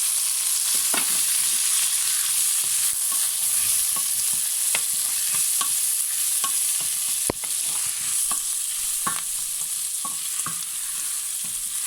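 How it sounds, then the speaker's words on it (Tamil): Prawns, onion, garlic and fenugreek fry in a pan for a Sri Lankan Jaffna prawn curry, a loud continuous sizzle broken by frequent sharp clicks and scrapes of stirring, close up with no talking. "இறால், வெங்காயம், உள்ளி, வெந்தயம் எல்லாவற்றையும் இதுக்குள் போடுவோம்"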